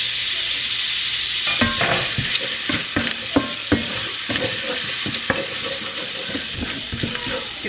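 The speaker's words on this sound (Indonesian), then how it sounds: "Tumis bawang putih." Garlic sautéing in butter in a pan while being stirred for cheese rice, a close, steady sizzle punctuated by many sharp scrapes and taps of the spatula against the pan.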